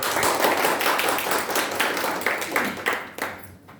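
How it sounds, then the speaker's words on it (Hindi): An audience at a leadership development program applauds with close, steady clapping that gradually thins out and stops. "जोरदार तालियां"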